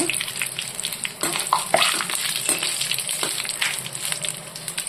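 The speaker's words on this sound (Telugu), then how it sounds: "ఫస్ట్ అయితే కరివేపాకు వేపుకుంటున్నాను" Curry leaves fry in hot oil as a bitter gourd and garlic dish begins, giving a bright, crackling sizzle that stays close and continuous, broken by a few sharp pops and spatters.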